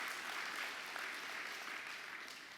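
Audience applause at the closing ceremony of the ICTAM 2024 congress, a sustained, even wash of many hands clapping in a large hall, somewhat distant.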